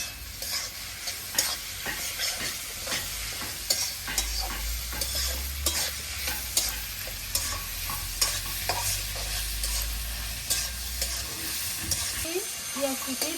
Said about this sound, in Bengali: পেঁয়াজ কুচি ভাজা ভাজা হয়েছে